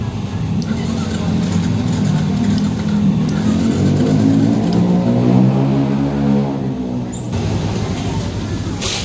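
A Yamaha Jupiter MX motorcycle that has trouble starting despite a new battery cranks and fires up, its engine rising and revving with a wavering tone before settling back, close by and loud.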